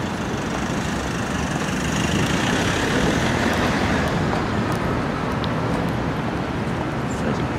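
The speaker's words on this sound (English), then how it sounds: "there's a truck coming from the other direction" Steady, dense street traffic rumbles beside a walled city block in Vienna, with engines and a truck approaching from the other direction, continuous and fairly loud throughout.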